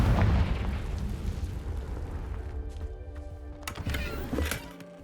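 A Confringo fire spell bursts in the Hogwarts Legacy video game, a loud low boom at the start that rumbles on and decays into fainter crackles and pops, with no talk over it.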